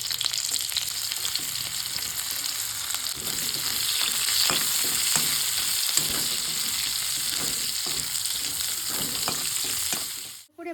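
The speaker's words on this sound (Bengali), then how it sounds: "ফোড়নে দিচ্ছি শুকনো লঙ্কা জিরে দিলাম ফোড়নে পেঁয়াজ কুচি" Chopped onion frying in hot oil with dried red chilli and cumin tempering, a loud steady sizzle with intermittent stirring scrapes and clinks, close up and continuous for about ten seconds before cutting off.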